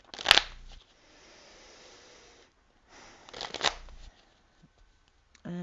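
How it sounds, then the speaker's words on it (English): A combined Lenormand, Reverie and Kipper card deck being shuffled up close: a sharp riffle, a soft rustle, then a second longer shuffle burst and a final slap of cards. "we're going to pull one last card for you"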